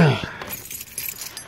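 Car keys for a 240SX S13 jangle sharply in a single short burst at the start, followed by a few faint clinks and handling noises up close.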